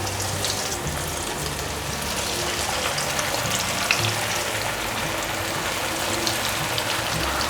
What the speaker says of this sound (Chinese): 8只素鸡腿都做好了，现在就拿去炸